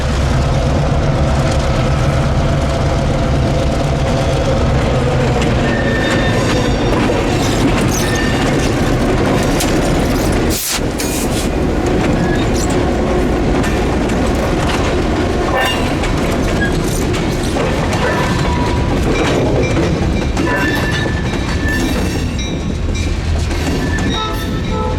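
A pair of Pee Dee River GP16 diesel locomotives led by number 1800 roll past hauling two cars, a loud, continuous rumble and wheel clatter that fills the whole stretch with one sharp bang partway through.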